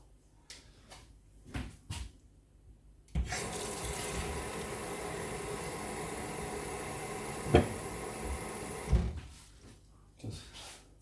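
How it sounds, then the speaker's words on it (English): Water from a tap pours steadily into a container, producing a loud, continuous gushing stream of about six seconds, preceded by a few knocks and clatters and followed by brief handling noises. "I'm gonna get another half liter of water."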